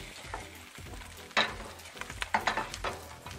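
A plant-based burger patty, Pure Farmland or LightLife, is flipped in a pan of melting butter, a steady close sizzle broken by a few sharp spatula scrapes and clinks.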